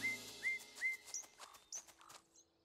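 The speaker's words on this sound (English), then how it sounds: "I really wanted to hear the little nightingale sing." Cartoon nightingale singing a series of short whistled chirps and rising tweets, repeated in a quick uneven rhythm, clear and close over faint background music.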